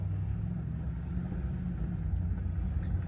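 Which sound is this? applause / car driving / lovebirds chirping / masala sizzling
car driving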